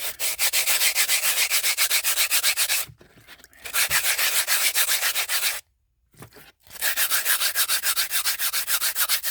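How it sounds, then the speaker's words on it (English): Cheap sandpaper rubbing in steady, rapid back-and-forth strokes, loud and close, stopping briefly twice before resuming the same scratchy rhythm. "Now this is cheap sandpaper"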